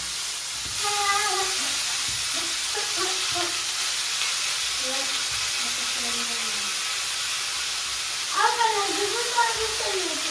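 Chopped garlic and leafy greens go into a hot pan, giving a steady sizzle and hiss that flares briefly near the end while someone speaks over it.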